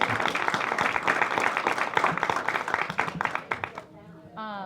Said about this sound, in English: I want a little round of applause there.